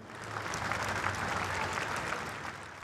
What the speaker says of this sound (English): Mourners applauded in tribute as the hearse made its way through the historic heart of the Scottish capital